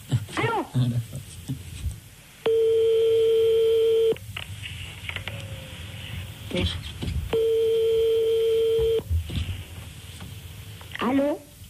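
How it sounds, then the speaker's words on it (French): Telephone tones from a prank phone call on French radio: two long, steady electronic tones, each lasting over a second and separated by a pause. Short bursts of voices and clicks fall between and around them. "Ça mérite un autre coup de téléphone."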